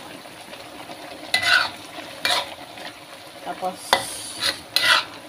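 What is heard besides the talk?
stirring onions in a frying pan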